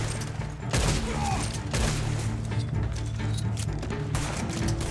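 Dense gunfire in the Western shooter game Red Dead Online, with rapid overlapping shots and sharp cracks in a steady loud barrage that lasts throughout, with faint speech underneath.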